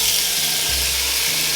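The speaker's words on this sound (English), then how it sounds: "I hope you guys can hear me over the sizzle of this." Loud, continuous sizzling of sausage, peppers and tomatoes frying in a hot pan, close up with a steady hiss and no talking.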